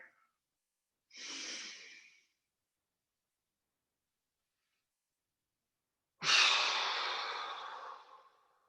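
Two slow audible breaths during gentle qigong stretches, a shorter airy one early and a longer, louder exhale later, separated by near silence.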